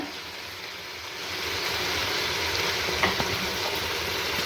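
Mint leaves sizzle in a hot pan for country chicken biryani as they are stirred, a steady hissing fry that swells louder after the first second and carries on evenly.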